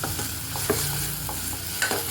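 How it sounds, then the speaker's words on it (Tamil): Vegetables sautéing in a pan for kadalai sambar, a steady close sizzle with a few soft scrapes and knocks of a spoon stirring, no voices. "நல்லா எல்லாமே நல்லா வதங்கி வந்துடுச்சு."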